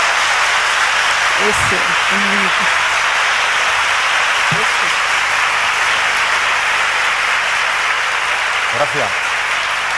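A studio audience at a 1989 Spanish copla television program claps continuously and loudly throughout, while someone speaks briefly over the sustained applause.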